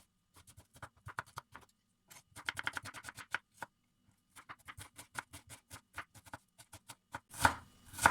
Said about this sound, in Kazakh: Дәл осындай әдістермен енді өте ұсақтап етімізді турайтын боламыз.